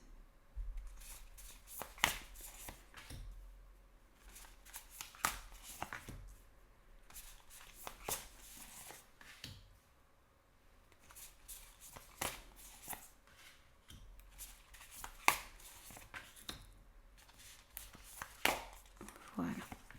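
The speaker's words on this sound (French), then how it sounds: "je place les cartes et on regarde ça tout de suite" Tarot cards are laid out on a table with repeated soft slaps and brushing shuffles, each card landing with a brief crisp tap at an irregular pace. The sound is close and fairly quiet, with no talking.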